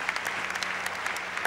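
A crowd at the Grand Prix Longines show jumping event in La Baule stands and applauds the winners, Nick Skelton and his horse Carlo, with dense, steady clapping that fills the space.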